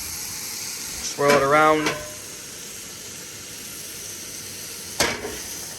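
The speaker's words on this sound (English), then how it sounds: "The pan for the cast iron is just starting to smoke. Add a little bit of oil to it." Oil sizzles steadily in a cast iron pan that is just starting to smoke, a continuous soft frying hiss under brief spoken remarks.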